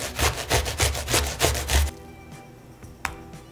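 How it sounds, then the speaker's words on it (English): Beets are grated by hand in a kitchen, giving a rapid run of close, rasping scrape strokes in a steady rhythm before they give way to quieter scattered rubbing and a single sharp knock. "I feel like this is like trying to grate watermelon."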